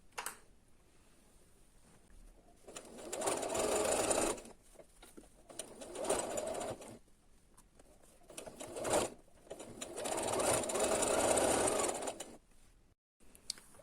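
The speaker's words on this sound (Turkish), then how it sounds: "Buradan başlayıp bütün kenarlarımı dikiyorum." A sewing machine stitches around the edges of a fabric beret in three loud, sustained runs of several seconds each. Short quiet pauses separate the runs, and no one speaks.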